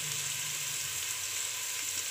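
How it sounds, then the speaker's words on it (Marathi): Capsicum (bell pepper) frying in oil for chicken dum biryani, a steady close broadband sizzle that holds evenly throughout with no talk. "आता याच्यामध्ये शिमला मिरची टाकली मी, ती पण चांगली परतली पाहिजे"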